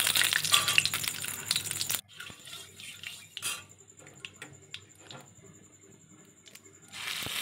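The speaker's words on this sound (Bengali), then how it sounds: "তেলের ওপরে আমি কালো জিরে ফোড়ন দিয়েছি। কালো জিরে দিয়ে একটু নেড়ে নেব।" Nigella seeds tempering in hot oil in a pan while being stirred, a dense crackling sizzle loud for two seconds, then softer scraping and clinking with a thin steady hiss, rising again at the end.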